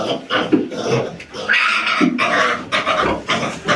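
Close, rough growling and snorting from a dog on a pig farm, in uneven bursts, with grunting noises mixed in.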